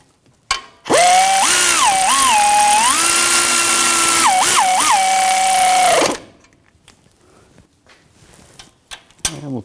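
A power tool drives in the front brake bolts on a 2006-2010 BMW 550i, a loud close whine running about five seconds with brief pitch dips as it loads up, then stopping, followed by faint clatter.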